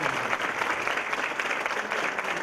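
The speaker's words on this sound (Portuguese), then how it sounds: "Vamos receber a Maria Tereza com uma salva de palmas." Sustained, even applause from a conference audience at CONEMCI welcoming a guest, a continuous wash of many hands clapping with no voices over it.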